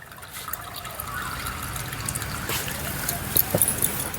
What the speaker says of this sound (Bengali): সুতির কাপড়টা এবার একটু ঝুলিয়ে রেখে দেবো ছানা, যাতে এর থেকে অতিরিক্ত জলটা কেটে বার হয়ে যায়।